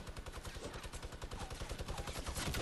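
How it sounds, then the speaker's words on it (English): Rapid automatic gunfire in Fortnite, continuous rattling bursts of closely spaced shots, loud and dense throughout with no talking. "I'm getting shot from that base."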